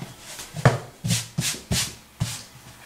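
Hands brushing excess flour off rolled-out croissant dough, giving five soft swishing strokes at an uneven pace, close and quiet with no speech.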